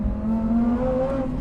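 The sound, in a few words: supercharged Lamborghini Huracan STO engine wailing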